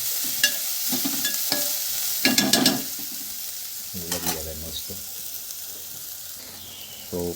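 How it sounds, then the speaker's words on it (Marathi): Chopped onions frying in oil in a pan for mutton keema patties, with scattered stirring scrapes and brief louder bursts of sizzle over a steady low hiss, close by and without speech. "सगळं छान असं कलर आला आपल्या कांद्याला असं तेल सुटलं त्याला कलर आला पाहिजे"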